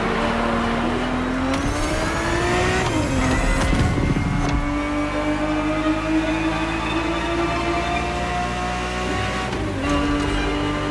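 A Ferrari 365 GTB4 engine racing in the video game The Crew Motorfest, loud and close: sustained high revs climbing through the gears, with brief drops at each shift and a faint squeal of tires.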